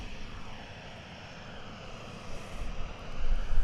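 An American Airlines jet taxis at DFW airport, a steady, distant engine roar that swells louder toward the end, with no talk over it.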